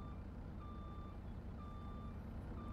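Reversing beeper on a vehicle in the Farming Simulator 22 farming game, sounding three long steady tones at an even pace over a constant low engine rumble, with no talking.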